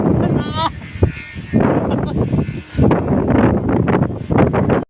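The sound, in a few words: strong wind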